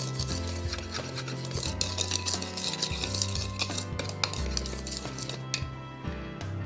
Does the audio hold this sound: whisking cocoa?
yes